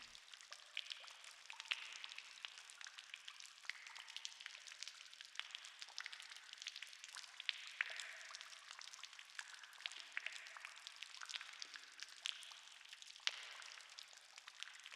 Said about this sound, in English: still surrounded by the sound of water